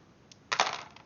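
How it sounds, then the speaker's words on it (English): Four dice rolled across a hard surface for a tabletop RPG, giving a faint first tap and then a loud burst of clattering, tumbling clicks that settle into a few scattered rattles. "I'm going to make the dice rolling sound by rolling some dice."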